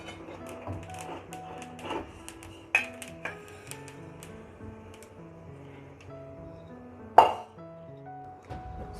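Roasted sesame seeds tipped from a pan onto a plate for sesame burfi, giving light dish clinks and taps with two sharper knocks over steady background music.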